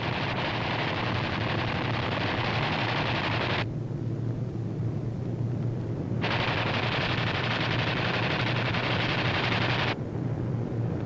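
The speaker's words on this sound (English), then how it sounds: "These B-25s are carrying out low-level strafing operations against Jap surface vessels" WWII B-25 bombers strafe enemy surface vessels and an airfield with machine guns in a wartime film, a loud, dense, continuous roar of gunfire and engine noise with abrupt cuts between shots, with no talking.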